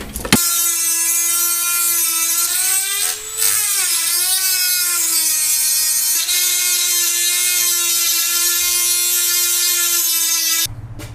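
A Dremel rotary tool whines at a high, steady pitch, close and loud, dipping briefly in speed once before holding steady and then stopping abruptly.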